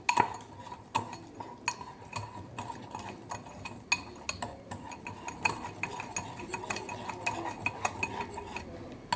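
Mug cake batter is whisked in a mug, a quick run of light, rhythmic metal-on-ceramic clinks and scrapes, close and fairly quiet, no one speaking.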